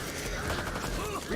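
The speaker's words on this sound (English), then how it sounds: "Reloading!" Mechanical clicks and ratcheting of a gun reload in a video game, a short busy burst of metallic handling close up, a voice faintly underneath.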